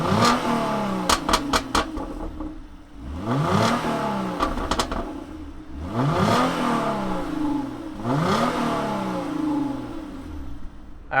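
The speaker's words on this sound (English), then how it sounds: "let's fire up this V6 and hear what it sounds like" A 2016 Hyundai Genesis Coupe V6 engine revs repeatedly, each rise climbing then falling back to a steady idle, with occasional sharp rattles and clicks over the mechanical hum.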